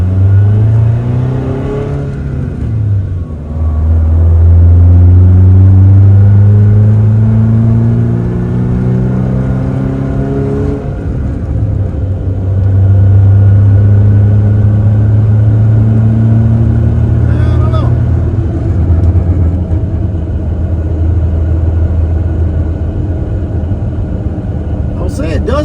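A car fitted with an HPS intake pipe climbs a hill under heavy load, its engine droning and rising in pitch through repeated long pulls, dipping briefly between gears, while someone talks over it inside the cabin.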